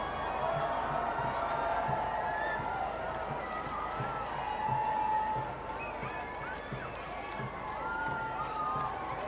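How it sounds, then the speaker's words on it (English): Crowds lining the Mall cheer during the Trooping the Colour ceremony, a continuous distant roar of voices and whoops with a rhythmic tramp underneath, steady and broad rather than close. "Lots of enthusiastic cheering from the youth enclosure"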